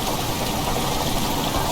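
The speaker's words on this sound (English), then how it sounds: "Water rushing into the chamber makes a strange sound." Water rushes into a chamber in the video game Amnesia: The Dark Descent, a loud, unbroken broadband hiss and gush that holds steady throughout.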